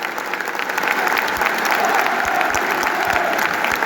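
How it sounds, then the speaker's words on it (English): Stadium football crowd at a Norwich City versus Sheffield Wednesday match clapping steadily for the Sheffield Wednesday supporters; dense, sustained applause from many hands, fairly loud and close. "Big clap for the Wednesday supporters."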